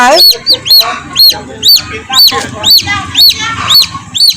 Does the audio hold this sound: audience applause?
no